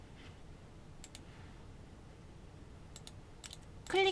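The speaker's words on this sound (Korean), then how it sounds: "클릭" A few small, sharp clicks of a computer mouse while working in AutoCAD, sparse and faint against a quiet room, with a brighter tone sounding at the very end.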